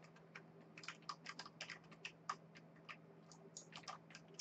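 Clicky keystrokes on a computer keyboard during a Rocket League game, irregular quick taps in bursts over a low steady hum, fairly quiet and close.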